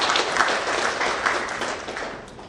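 An audience of Jakarta officials gives a short round of applause, a dense clatter of many hands that holds steady and then begins to fade.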